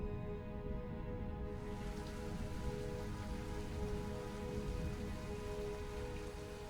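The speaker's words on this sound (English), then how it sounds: "You will hear the beginning of rain." Steady rain falling on a surface, a continuous dense hiss with a faint low rumble beneath, swelling slightly in the first second and then holding at an even, moderate level throughout with no voices.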